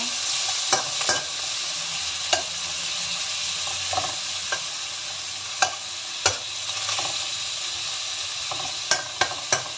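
Meat fries in a pan for fried noodles, a continuous close sizzle broken by scattered sharp pops and occasional scraping stirs, with no one speaking.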